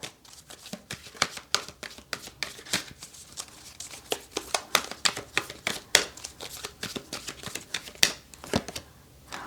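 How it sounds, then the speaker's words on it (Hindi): Tarot cards shuffled by hand, with a steady run of quick, crisp riffling slaps and flutters repeating throughout, close and fairly loud, with no talking. "आपके लिए कार्ड्स को शफल करते हैं।"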